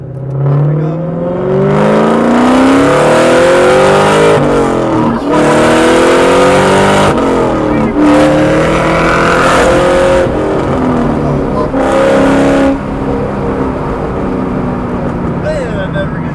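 A Terminator Cobra car drives and accelerates hard, its loud engine revving up through repeated rising pulls with gear shifts in between, heard close from inside the car with the window down.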